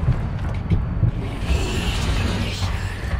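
Mechanical whirring and creaking of the torque bow charging in Gears of War, rising like a washing machine revving up, with low thumps and clatter beneath it.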